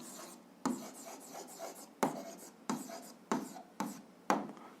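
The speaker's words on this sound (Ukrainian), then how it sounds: "записуємо відповідь, пишемо відповідь" A pen writing an answer on paper, close and quiet, in short scratchy strokes with sharp taps every second or so, repeating in an uneven rhythm.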